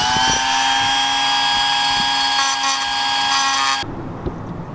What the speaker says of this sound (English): Get the grinder back out.